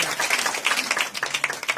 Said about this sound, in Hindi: जोरदार ताली बजा के प्रभु का धन्यवाद।